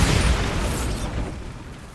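A Bombarda spell explosion in the Hogwarts Legacy video game, a single loud, heavy boom that hits at once and then rumbles and fades over about two seconds.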